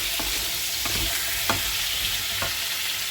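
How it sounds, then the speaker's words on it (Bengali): Steady frying sizzle of potatoes in hot oil, with a few sharp scraping stirs at regular intervals; close and continuous, no voices. "এই আলুটা সুন্দর করে আমি লাল লাল করে ভেজে নেব"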